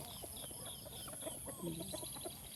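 Chickens cluck and chatter softly in a quiet farmyard, several overlapping calls at a low, distant level.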